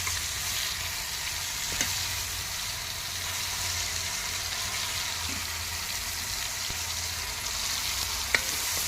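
Freshly ground masala frying in oil in a pan, a steady, moderately faint hiss and sizzle with occasional light taps of a stirring spoon.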